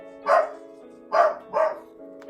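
Three barks from Teddy, a pet dog indoors, sound close and clear: one bark, a pause, then two quick ones with a brief whine between them.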